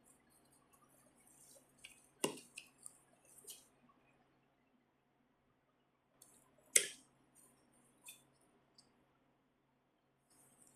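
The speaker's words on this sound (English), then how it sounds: "I'm going to cut that one off and put that in there." Scissors snipping through a pothos houseplant stem indoors, with two sharp, distinct cuts several seconds apart amid faint rustling of leaves and handling, no talking.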